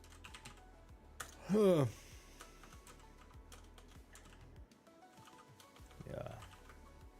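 Rapid light clicking of keys on a computer keyboard runs throughout, close and fairly quiet, with a brief spoken sound partway through.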